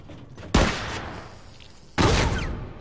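Two sharp, loud blasts from a grenade explosion in The Last of Us multiplayer, each decaying into a rumbling tail, the second arriving about a second and a half after the first.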